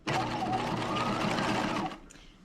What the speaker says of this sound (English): continue stitching to the other side